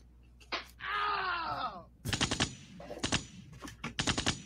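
Gunshot sound effect: a burst of rapid sharp cracks like machine-gun fire after a groaning voice-like wail, with another quick cluster of shots, close and clear.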